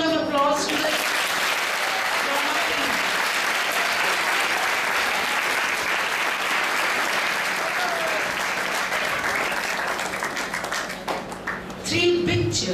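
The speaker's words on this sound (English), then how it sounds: "Give a big round of applause" Sustained, loud audience applause fills a school auditorium after a class performance of the play Bishop's Candlesticks, a dense even roar of clapping that fades near the end as voices return.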